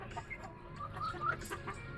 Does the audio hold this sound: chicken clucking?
yes